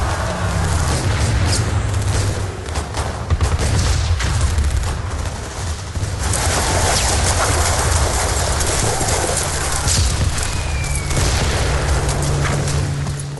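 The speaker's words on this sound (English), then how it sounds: "Rocket launchers, mortars, and 85 machine gun nests tear into the Americans." Heavy WWII battle noise from rocket launchers, mortars and machine-gun fire directed at American troops landing on a beach: a dense, loud, continuous roar of booms and rapid shots with no voices.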